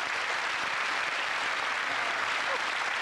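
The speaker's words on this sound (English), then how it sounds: "give a nice round of applause there" A studio audience at a television game show applauds in a steady, dense wash of clapping that fills the whole moment without letting up.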